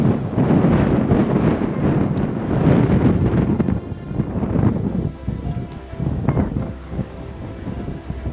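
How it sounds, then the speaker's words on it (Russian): Strong wind roars and buffets the microphone in heavy, continuous gusts, loud and rumbling throughout with no voices. "Здесь очень ветрено."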